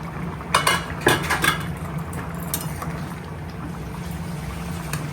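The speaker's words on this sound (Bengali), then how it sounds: "এবার ঢাকনাটা খুলে দেখবো ওলটা সিদ্ধ হয়েছে নাকি" A metal pot lid lifted off a simmering pot of elephant foot yam and potatoes gives a few light clinks and rattles near the start, then a steady low bubbling hum continues beneath.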